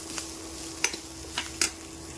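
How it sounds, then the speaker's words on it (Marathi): Chopped onion frying in a pan for a vegetable curry, a steady soft sizzle with a few sharp scrapes and clinks of a spoon stirring against the pan, no voices. "तर हे पहा आता हे कांदा मस्तपैकी फ्राय झालेला आहे"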